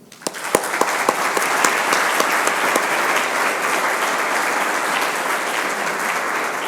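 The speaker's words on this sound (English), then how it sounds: "May I request you to give another round of applause." Sustained applause from a campus audience, a dense, steady wash of many hands clapping at close range, with a few sharper individual claps standing out near the start.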